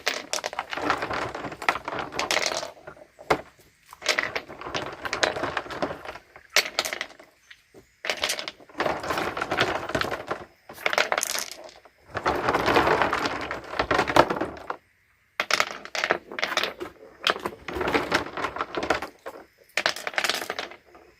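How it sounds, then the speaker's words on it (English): Rocks from a garden fountain are handled and dropped into a bucket for rinsing, producing repeated bursts of clattering, clinking stone-on-stone and stone-on-bucket knocks, close and fairly loud, separated by short pauses. "I may or may not put the rocks in the bucket to rinse them off."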